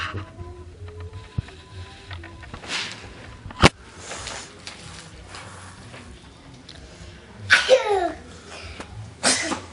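A single sharp sneeze bursts out partway through amid quiet household background noise, followed later by laughter and voices.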